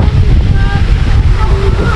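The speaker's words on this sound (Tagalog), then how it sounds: "Napakahangin ngayon oh" Strong wind at a seaside campsite buffets the microphone with loud, steady low rumbling. Faint surf blends in behind it.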